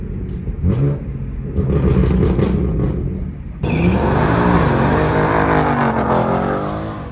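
A BMW M3 is driven at night, its engine and exhaust giving a loud, close, rumbling drone that rises and falls with revs, then jumps to a rougher, grittier burble partway through.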